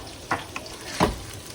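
French beans with cherry tomato, seasoned with dark soy sauce and sugar, being stir-fried in a pan: two distinct scraping stirs against a low sizzle, close and fairly quiet.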